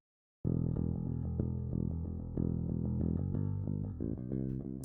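Raw bass guitar DI with no plugins and little top end, entering after a brief silence with steady, loud, deep repeated notes in a driving rhythm for about four seconds, alone with no voices.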